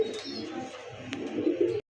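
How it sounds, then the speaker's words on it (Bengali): A female Rajshahi Giribaz pigeon coos softly and low, a short throaty call rising near the end, then quiet. "সিঙ্গেল এই মাদি কবুতরটা রাজশাহী গিরিবাজ"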